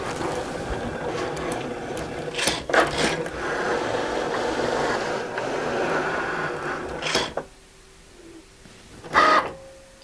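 Cricut cutting machine slicing through a sheet of shrink plastic, giving a steady mechanical whir and scraping rasp with a few louder clicks and bursts as the carriage moves, close and alone, before it stops near the end.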